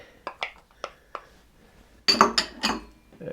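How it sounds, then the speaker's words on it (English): Tuna and celery being mixed in a bowl: a few sharp clinks of a utensil against the bowl, then a denser burst of scraping and clattering up close, with no talking. "just going to take a bowl, mix it all together"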